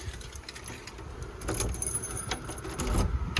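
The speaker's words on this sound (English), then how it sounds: "Have a look in that bag, there's hundreds of keys." A large bunch of keys jangles and clinks in bursts as someone rummages for the right one during a home renovation, close by and moderately quiet, with a low rumble underneath.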